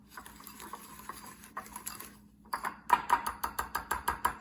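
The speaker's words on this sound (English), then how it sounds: "Then we're just gonna grab a whisk and we're gonna mix this together until it's evenly combined" A metal whisk clinks rapidly against a bowl, working flour into a thick, paste-like banana pudding mixture. Faint stirring comes first, then a close, steady run of sharp, rhythmic taps.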